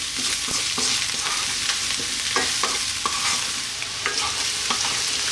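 Eggplant stir-frying in a hot pan for a vegan tomato pasta, with a steady close sizzle throughout and repeated scraping, clacking stirs of a utensil against the pan at irregular intervals; no talking.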